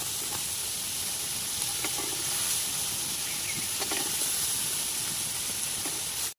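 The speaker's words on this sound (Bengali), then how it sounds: "এই সবজিগুলো আমি ভালোভাবে ভেজে নেব" Carrots and beans fry in a pan, a loud, steady sizzling hiss that holds evenly close by, broken by a few faint clinks of stirring, then stops abruptly.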